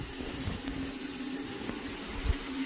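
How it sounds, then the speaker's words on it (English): Water runs steadily from a bathroom tap, a continuous splashing hiss with a faint low hum underneath. "Now you get running water"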